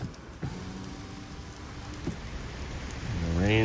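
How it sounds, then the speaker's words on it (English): Heavy monsoon rain comes down as a steady hiss that swells toward the end. A few brief tonal sounds rise over it near the close. "The rain is coming down."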